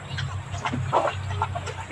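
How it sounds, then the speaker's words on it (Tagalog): Chickens clucking in short scattered bursts over a low steady background hum, moderately close, with no talking. "yung mga iba kong alaga na manok"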